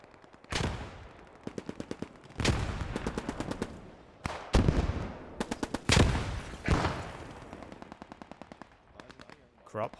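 Rapid automatic gunfire in Post Scriptum during a realism event battle, several loud close bursts of fast rattling shots separated by short pauses, with voices also present.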